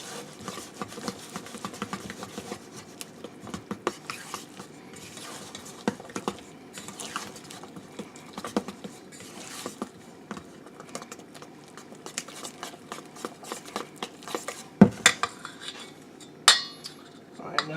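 A utensil stirring cornbread batter in a bowl, giving soft, irregular scraping and clinking taps close by, with a few sharper knocks near the end.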